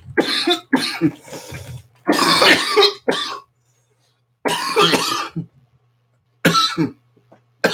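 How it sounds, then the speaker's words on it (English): Repeated harsh coughing fits, loud and close, in several bursts separated by short pauses. "sorry for my cannabis habit, making me cough so much."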